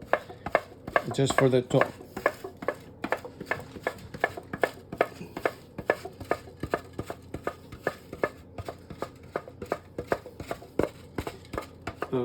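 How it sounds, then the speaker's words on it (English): Domestic Parmigiano cheese being grated in a home kitchen, a run of quick, regular rasping strokes close by, with a voice speaking briefly near the start. "now I'll take the grater and I'm gonna grate some domestic Parmigiano"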